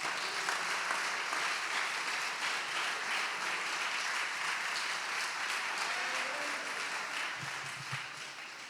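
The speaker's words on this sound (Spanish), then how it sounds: "Denle un aplauso a Dios." Congregation applause at a church sermon, a steady wash of many hands clapping that fills the room at even loudness and tapers slightly toward the end, with a brief low murmur near the close.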